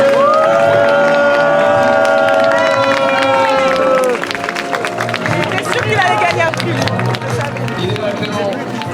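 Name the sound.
audience applauding the fashion contest winner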